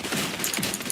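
Rapid automatic gunfire in a video game, a dense burst of shots firing continuously for about a second, loud and close with no talking.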